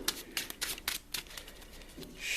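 A deck of playing cards being shuffled, several quick riffling bursts close by, separated by short pauses, with a final longer riffle at the end.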